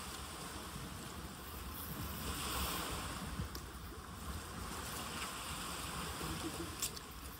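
Sea waves along a warm seaside shore wash in a continuous, soft surge mixed with wind rumble against the microphone, faint and steady throughout with no distinct breaks.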